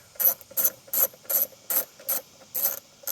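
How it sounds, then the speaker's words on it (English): Ratchet wrench clicking in eight short, evenly spaced bursts, close and crisp, while tightening the screws on a Honda BF35–BF45 outboard motor cover. "So we need to tighten the 4 screws for the motor cover."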